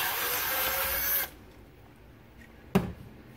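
A small drill bores out microphone holes in a plastic GoPro housing, a whining buzz that stops abruptly after about a second, followed by quiet and a single sharp click.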